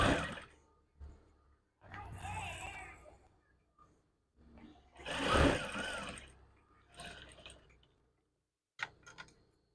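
Sewing machine stitching lace onto a curtain, several separate bursts of rapid mechanical whirring with short pauses between, close and fairly loud.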